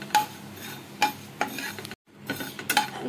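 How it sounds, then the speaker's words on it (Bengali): Fennel and cumin seeds are dry roasted in a pan, with a spatula scraping and tapping metal in repeated strokes, a brief silence, then more stirring. "1 চামচ মৌরি, 1 চামচ জিরে শুকনো কড়াতে ভেজে নেব, ড্রাই রোস্ট করে নেব"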